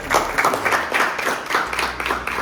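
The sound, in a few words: audience applause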